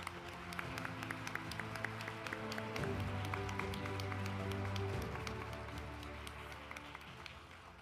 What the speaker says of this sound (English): Please welcome him with a big round of applause for his welcoming remarks.